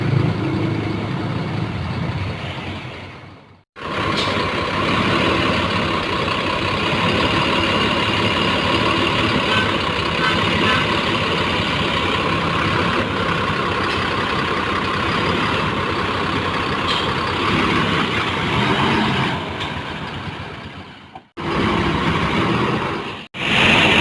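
Mercedes-Benz OH 1525 bus engine rumbling as the bus eases out of a garage onto a congested street, a loud, steady diesel drone lasting throughout with two brief cutouts.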